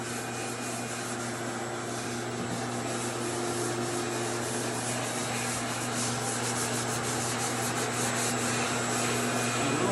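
A drywall wall patch hand sanded in circular motion makes a continuous, even scratchy rubbing hiss, close and steady throughout, with no voices.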